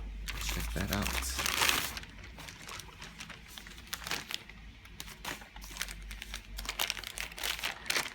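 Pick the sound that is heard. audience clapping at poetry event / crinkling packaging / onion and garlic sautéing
crinkling packaging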